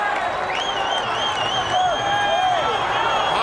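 Dense crowd noise fills the arena at a Muay Thai bout between Yodsaenklai and Wayne Parr, a steady roar of cheering spectators on their feet under a commentator's voice and whistling tones.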